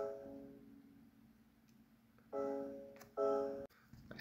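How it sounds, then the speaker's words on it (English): Two layered sets of keys in FL Studio playing a melodic drill pattern: a fading sustained chord, a quiet gap, then two brighter stabbed chords cut off sharply. "Then I layered those keys with another set of keys."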